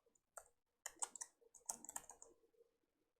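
Quick bursts of clicky keystrokes on a computer keyboard while a Power BI measure is entered, irregular clusters of taps with short pauses, close and quiet, no voices.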